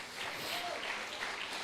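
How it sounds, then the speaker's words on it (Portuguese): A church congregation at a celebration service claps in a soft, continuous wash of applause for Jesus, steady and somewhat distant, lasting under two seconds. "Será que você pode aplaudir o Senhor Jesus?"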